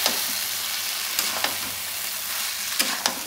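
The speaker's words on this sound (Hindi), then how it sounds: "तो इसमें हम डाल देते हैं आलू और सोयाबीन।" Potato and soybean pieces frying in a pan give a continuous close hiss, with a few sharp scraping stirs cutting through at irregular moments; nobody speaks.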